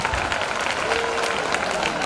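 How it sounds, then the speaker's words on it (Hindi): Children clapping together at a school ceremony, a dense, steady patter of applause that fills the whole short stretch at moderate loudness. "बच्चों आपकी तालियां कमजोर पड़ रही हैं"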